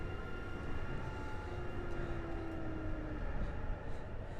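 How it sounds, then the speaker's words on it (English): An express train passes in the Train Drive ATS 3 railway simulator, giving a continuous low rumble with a faint tone that slowly falls in pitch. No one speaks over it. "there's the express train"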